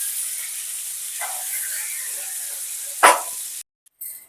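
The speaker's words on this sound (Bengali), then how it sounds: "মাছগুলো আমি উল্টো পাল্টে করে ভেজে নিয়েছি, এবার মাছগুলোকে আমি তুলে নেব।" Tangra fish frying in hot oil in a pan: a steady, close sizzle and hiss, a sharp scrape or clank as the fish are lifted out, and the sound cutting off abruptly near the end.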